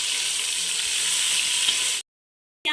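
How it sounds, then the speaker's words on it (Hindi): Chicken pieces frying in a pan while being cooked for shami kabab give a loud, continuous close sizzle, which cuts off abruptly near the end before a short final burst. "अब इसको हम तकरीबन 4 से 5 मिनट तक भूनेंगे चिकन को।"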